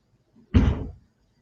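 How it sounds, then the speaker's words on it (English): A single dull thud of a car door or trunk shutting, short and solid, with a faint echo trailing off. "it's a car door or a trunk. Something is closing."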